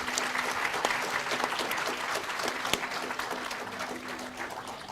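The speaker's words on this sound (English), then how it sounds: "Can we please give them one last round of applause?" Applause rises from an audience at a university panel discussion on impeachment, a sustained even clapping from a sizable crowd that eases slightly toward the end, with a sharp knock heard once.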